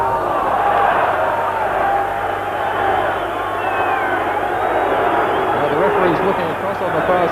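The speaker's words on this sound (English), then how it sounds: "And that was well received by the crowd." Large rugby stadium crowd at a 1989 Waikato versus Argentina test match roars and cheers in a sustained, loud wash of noise, with a commentator's voice running underneath.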